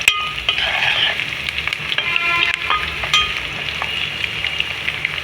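Onions and green chillies fry in a pan for goat head curry, giving a steady, close sizzle with stirring scrapes throughout and no voices.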